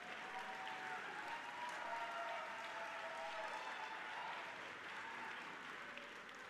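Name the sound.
audience applause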